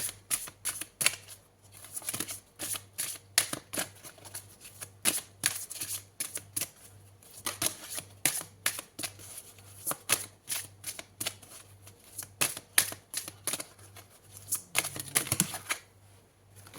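Tarot cards are shuffled and drawn in a long run of quick, crisp riffling flicks, close and steady, with a low hum beneath and no speech.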